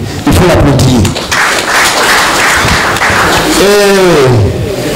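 A ceremony crowd applauding, a loud, dense clatter of many hands nearby, with voices calling out over it throughout and a raised shout near the end.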